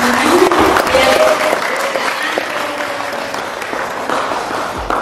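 An audience at an Indonesian geography podcast event at BRIN breaks into applause, a dense wash of clapping that stays loud and sustained for the whole stretch, with faint voices mixed in.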